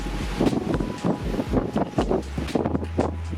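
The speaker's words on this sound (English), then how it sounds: "as you maybe can hear it, it's quite windy up here" Strong gusts of wind buffet the microphone on a mountain peak on the island of Elba, coming in loud, irregular bursts with a low rumble between them.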